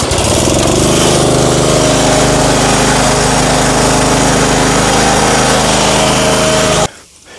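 Small engine on a seed tender auger restarting and running: a loud, steady mechanical drone close by that holds constant for about seven seconds and then cuts off abruptly, with no voices.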